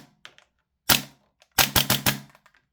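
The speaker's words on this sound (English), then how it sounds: "Let's do a semi-auto shot first." Sharp gas blowback reports from an Archwick B&T Air APC9-K airsoft SMG: one single semi-auto shot, then a quick burst of four snappy cracks, close and loud with short decays.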